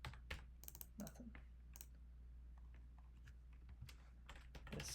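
Someone types on a computer keyboard nearby, with quick irregular bursts of key clicks over a low steady hum.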